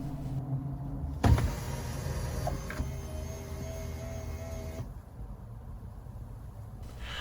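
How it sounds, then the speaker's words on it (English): A Tesla Model 3 power seat motor hums quietly and steadily for several seconds inside the car, starting with a soft click and stopping with a subtle drop in the hum. "The only thing that you can hear is the seat moving in this video."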